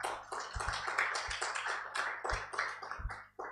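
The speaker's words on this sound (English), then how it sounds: "A round of applause for yourselves," A conference audience claps for itself at the opening of an insurance event, sparse clapping with a few sharp close claps and taps standing out, fading near the end.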